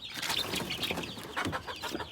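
Newly hatched village chicks from free-range farm hens, a dense chorus of high, continuous peeping and cheeping close by, with fowl clucking mixed in and no pauses.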